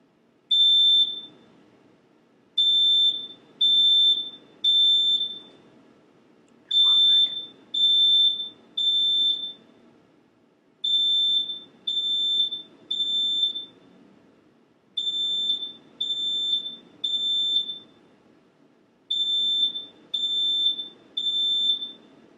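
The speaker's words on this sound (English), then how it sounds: "So I'm going to go set off a demonstration now with the smoke alarm." A Lifetone HL 150 smoke alarm under test, sounding loud piercing electronic beeps in repeated groups of three with short gaps between each group, clear and close with nothing else over it.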